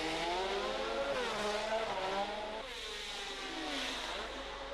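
Formula 1 race cars from 1972 scream past through rain at Monaco, high engine whines rising and falling as they accelerate, continuous and mid-distance.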